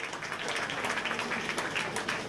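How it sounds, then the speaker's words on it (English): Crowd applause at a baseball game, a standing ovation as a pitcher rises to his feet; steady, dense clapping from many hands, moderately distant and continuous throughout. "Crumley comes to his feet and draws a standing ovation from the crowd"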